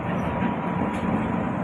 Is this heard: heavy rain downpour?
no